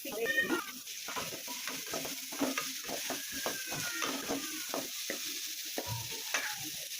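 Tomatoes fry with onions in a pan for egg fried rice, a soft, steady sizzle punctuated by frequent scraping and tapping stir strokes at close range, with no one talking.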